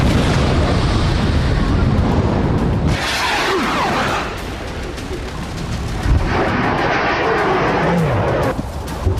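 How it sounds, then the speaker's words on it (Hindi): Bombs exploding during a US strike on Houthi targets with B-2 bombers dropping heavy bunker-buster bombs: a loud, continuous roaring rumble with dense booming blasts that runs for about nine seconds, with no voices. "हूती पर अमेरिका ने की बमबारी।"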